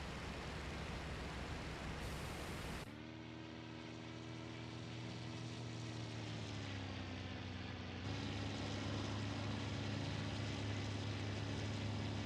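Yak-1 propeller plane engine in a flight sim game roars steadily through a takeoff run, a loud continuous drone whose pitch shifts midway and swells again, with no talk over it.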